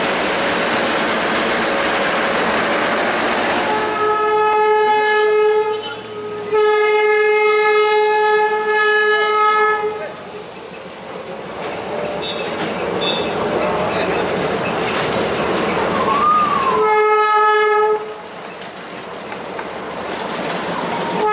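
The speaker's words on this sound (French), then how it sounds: "En gare de Küm, nous croisons un diesel qui vient de Kürsing." Diesel train at a station in Sikkim, India, rumbling loud and close with several long blasts of its horn, a pause, then another horn blast over constant engine and wheel noise.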